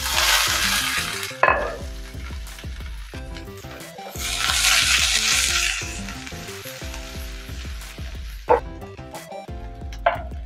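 Beans, carrot and capsicum sizzle in a pan for egg fried rice, a steady frying hiss that swells in two long bursts, with sharp clinks of a utensil and soft music running underneath.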